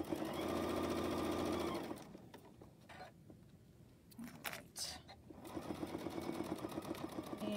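A Janome 15000 sewing machine stitches a bag seam in a steady, close whirring run, pausing briefly in the middle before resuming at full pace, with a few soft handling sounds in the gap.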